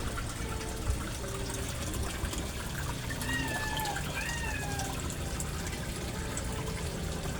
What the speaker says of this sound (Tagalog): Ito ang submersible filtration system ko guys oh.